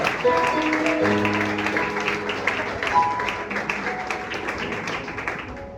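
Church congregation applauding during a youth conference service, clapping mixed with sustained organ or keyboard chords, fading gradually.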